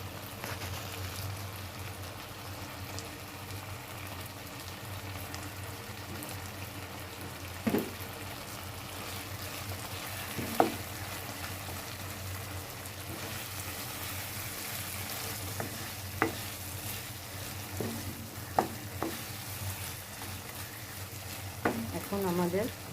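Chicken biryani meat cooking in homemade ghee in a pot, with a soft, steady bubbling sizzle held low and a few scattered spoon scrapes and knocks, quiet and close, with no talking.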